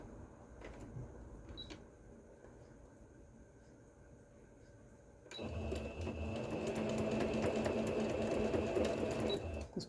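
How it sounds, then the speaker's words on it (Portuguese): A sewing machine stitching a knit fabric cuff runs in a steady, fast, close whirring rattle through the second half, after quieter handling noises. "Costurar a malha é difícil, porque ela entra na máquina."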